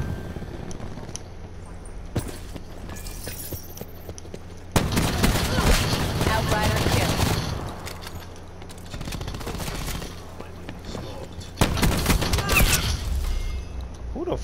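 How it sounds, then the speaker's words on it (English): Cluster grenade blasts in a Call of Duty Black Ops 4 free-for-all match: rapid overlapping explosions and gunfire erupt in heavy bursts, with loud clusters around the middle and near the end over constant game noise. "Cluster grenade. Enjoy."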